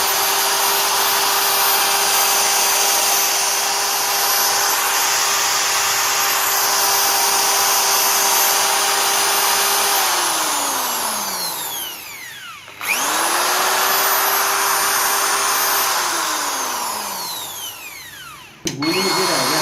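An electric drill, powered from a homemade 5000-watt UPS, runs loud and close with a steady whine, slows as it stops, spins up again and then cuts out once more.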